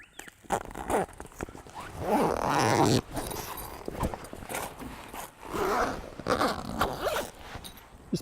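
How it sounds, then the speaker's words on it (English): Zipper pulled along an Austrack camper annex roof in several long drawn-out runs with short pauses between them, close and fairly loud. "Start the zipper down this end."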